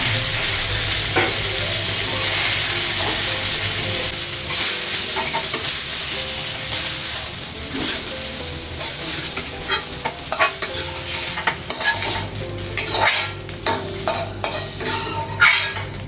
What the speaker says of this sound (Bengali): পনিরটা ভাজা হয়েছে